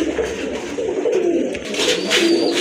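Pigeons coo repeatedly in soft, rolling phrases close by, several birds overlapping in a steady murmur with faint background noise.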